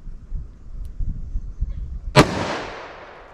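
One sharp, loud gunshot from a short-barreled .357 Magnum firing 145-grain Winchester Silvertip ammunition cracks after a quiet stretch of faint handling sounds, followed by a long fading echo.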